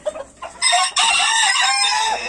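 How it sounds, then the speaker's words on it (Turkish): A rooster crows while walking on a farm: a few soft clucks, then one long, loud, close crow that breaks briefly and carries on to the end. "yürürken bile ötüyorsun ya"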